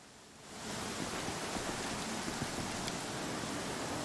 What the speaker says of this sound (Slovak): Stále prší, to je zle.